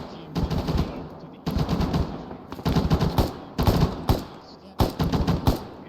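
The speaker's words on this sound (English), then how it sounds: "I'm hearing shots possibly inbound from the east" Rapid machine-gun bursts in a military shooter game during a squad training session, coming in four loud, dense volleys separated by short pauses, with faint radio chatter beneath.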